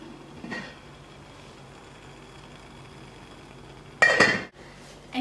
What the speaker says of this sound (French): placez la petite casserole au-dessus de la grande casserole